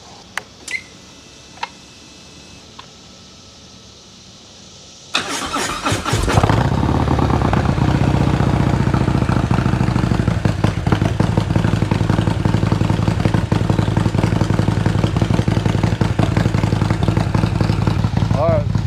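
A 2021 Harley-Davidson CVO Road Glide cold starts after a few faint clicks, then settles into a loud, steady, close lumpy idle for the rest of the clip.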